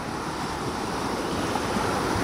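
Ocean surf washes steadily onto a shallow shore where fishermen drive fish into a net, a continuous broadband roar of breaking waves with some wind buffeting, close and fairly loud with no voices.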